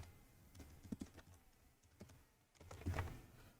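Keystrokes on a computer keyboard as a command is typed to run a bot, a short burst of soft clicks, a pause, then a louder cluster of taps near the end, close and alone.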